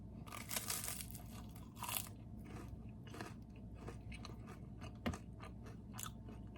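Crisp crunching and chewing close to the mic, irregular bites of a brittle rice cake, with no talking.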